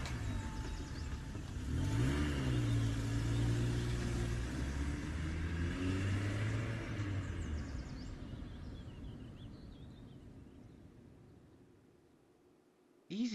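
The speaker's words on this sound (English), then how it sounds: "The man then gets into his car, starting up the engine as he drives off towards his job." A car engine revs up and pulls away, the rumbling rising then fading into the distance over several seconds.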